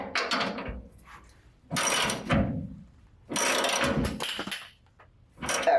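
A ratchet wrench tightens a rear shock bolt on a 1969 Ford F-250 Camper Special pickup, producing three separate bursts of rapid clicking, close and fairly loud, with short quiet gaps between them.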